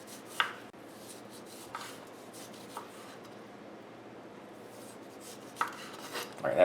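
A knife or peeler scrapes the skin off a cucumber in quiet, soft strokes, with a few sharper scraping strokes spaced irregularly through the clip.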